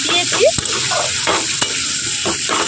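Boiled taro stolons frying in a hot pan, a loud close sizzle broken by scraping stirs and a couple of sharp spatula taps against the metal.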